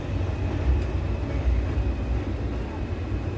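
A train rumbles by near a station, heard from a balcony across the street as a steady low continuous roar with a faint metallic whine, moderately loud with no clear talking.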